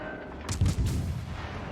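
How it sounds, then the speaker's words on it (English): Heavy ship guns fire in the naval game World of Warships: Legends, a couple of deep booming blasts in quick succession with a rumbling tail. "ideally we'd like to take a couple of shots at him"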